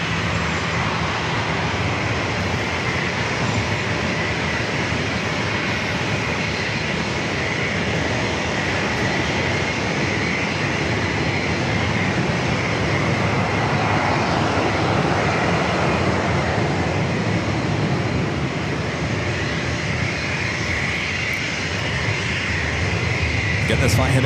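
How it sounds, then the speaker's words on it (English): A seven-year-old Boeing 737-800 jet airliner departs San Diego for Las Vegas, a sustained loud engine roar spread evenly over the whole stretch, steady and unbroken. "Getting this flight heading to Vegas, 7-year-old, 737-800."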